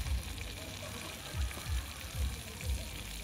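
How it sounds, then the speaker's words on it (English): Mushrooms frying in garlic butter in a pan, a steady soft sizzle running throughout with a few low bumps and thuds, moderately close and fairly quiet. "we're just going to fry them in garlic butter"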